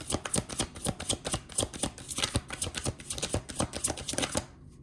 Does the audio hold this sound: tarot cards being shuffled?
yes